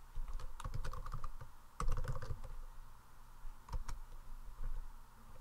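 Someone typing a new name for a video on a computer keyboard, a close, steady run of light key clicks with a few sharper taps and brief pauses, and no one speaking.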